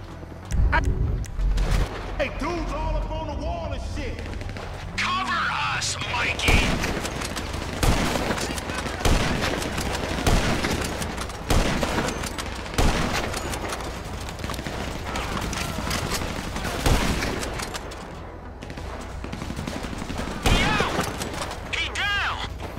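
Dense, sustained gunfire rattles through a mission in Grand Theft Auto V, with bursts of shots, mechanical clatter and loud action noise throughout.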